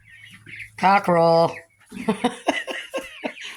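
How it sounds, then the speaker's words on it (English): A nearby cockerel gives a couple of loud, harsh clucking calls, followed by a person speaking softly. "Tell me that's not a cockerel."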